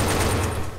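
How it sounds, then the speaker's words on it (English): Rapid gunfire rattles from a video game gun, a dense, continuous burst that stays loud and close throughout. "I'm gonna shoot guns now."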